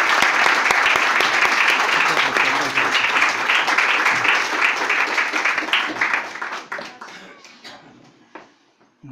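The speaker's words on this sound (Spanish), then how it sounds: "Lo acogemos con un aplauso." Audience applause welcoming a speaker to a talk on reincarnation, a dense sustained clatter of many hands that holds steady and then thins into scattered claps before fading out.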